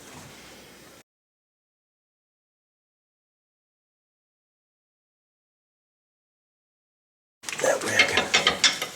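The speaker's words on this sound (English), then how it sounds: "Just trying to get that ratchet in there is like a nightmare." A ratchet clicks in quick, uneven bursts while turning bolts on a Nissan Frontier during a neutral safety switch replacement. A brief rustle comes first, then a long silence before the close clicking.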